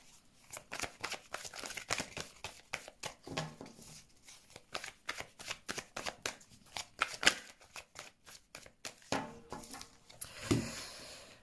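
Tarot cards are shuffled in a rapid, rhythmic series of riffling slaps and flutters, close up and steady for several seconds, with a couple of brief pauses as the deck is regathered.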